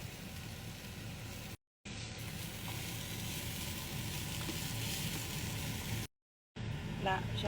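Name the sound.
minced meat and onion sizzling in pan, tomato sauce added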